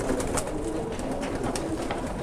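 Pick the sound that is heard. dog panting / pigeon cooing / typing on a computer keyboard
pigeon cooing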